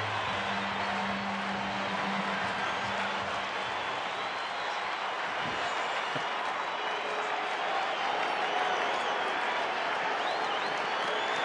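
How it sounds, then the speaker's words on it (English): Crowd at a Tuesday night baseball game between Milwaukee and Colorado buzzing in a broad, steady wash of noise, with scattered distant applause and a few faint shouts throughout. "So the crowd abuzz, and it's a great Tuesday night crowd."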